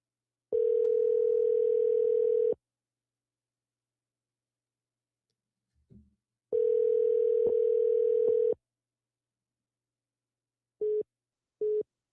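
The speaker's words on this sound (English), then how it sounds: "Now, this one goes straight to voicemail." Phone call tone on a line that goes straight to voicemail: two long steady electronic tone bursts separated by silence and a faint click, then two short beeps, clear and alone.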